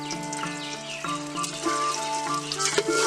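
Eggs pricked and frying in hot oil for a village-style biryani, giving a steady close sizzle with crackling pops and spatters throughout, no voices.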